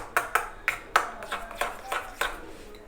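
Spoon strikes against a bowl while fresh cream is mixed, a series of sharp, evenly paced clinks with soft scraping between them, close and clear.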